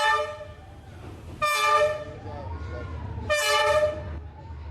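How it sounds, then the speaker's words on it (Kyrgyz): A train creeps along Hanoi's narrow train street, sounding two loud horn blasts a couple of seconds apart over a low rumble of wheels, with crowd noise and voices in the background. "Күн сайын бул райондогу ушул көчө аркылуу поезддер өтөт."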